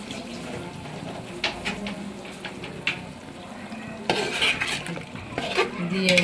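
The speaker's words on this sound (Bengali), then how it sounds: "মাংসটা ভালো করে একটু কষাই নেব" Chicken meat and fried potatoes being stirred and sautéed in a pot with yogurt, milk and a little sugar for chicken biryani, giving intermittent scraping clinks of a spoon against metal over a low kitchen hum, busier toward the end.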